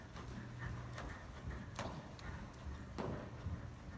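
Horse walking, hooves clip-clopping in an irregular series of soft, faint thuds, with a few low voices in the background.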